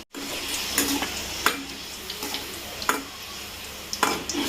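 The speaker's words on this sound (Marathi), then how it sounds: "त्याच्या आता चालू आहे पुऱ्या तळणं" Puris deep-frying in a home kitchen during a Ram Navami celebration, with a steady close sizzle of oil and sharp scraping and stirring clatters every second or so.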